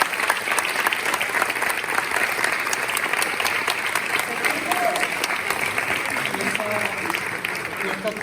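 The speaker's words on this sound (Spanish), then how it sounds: "Un aplauso." Theatre audience applause at a stage production, a steady dense crackle of many clapping hands held at even loudness throughout, with faint voices underneath.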